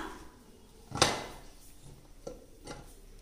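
A metal lid comes off a pot of meal maker (soy chunk) biryani: one sharp clatter, then a couple of faint knocks and scrapes in a quiet kitchen.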